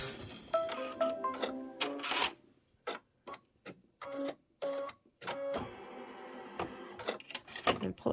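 A Kimberbell embroidery machine stitches a quarter inch seam on a seasonal table runner, giving rapid mechanical ticking bursts separated by short pauses, close and clear.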